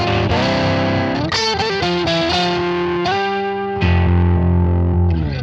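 Distorted electric guitar solo with effects, loud and sustained: bending, melodic lead lines ringing out over held chords, ending in a thick low chord, with no talking.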